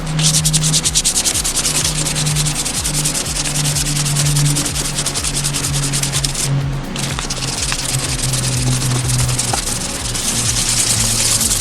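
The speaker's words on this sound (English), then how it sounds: "Half an hour sanding this all down, got all the shiny off it, got all the protective layer off it" Steady, continuous abrasive rubbing of sandpaper over a hair clipper body, stripping its shiny protective finish ahead of painting, close and loud with a brief dip midway and no talk.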